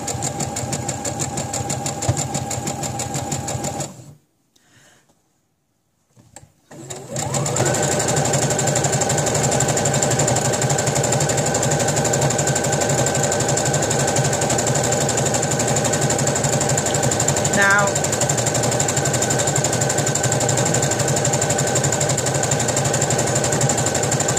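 A sewing machine straight-stitches a fabric pad with a loud, steady motor hum and rapid needle chatter, stops briefly, then runs on continuously at close range.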